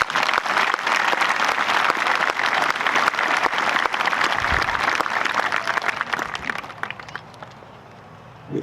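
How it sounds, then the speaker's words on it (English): A graduation audience at a high school ceremony bursts into sustained applause, dense clapping that holds steady and then tapers off toward the end. "Please join me in a round of applause for all these folks' efforts."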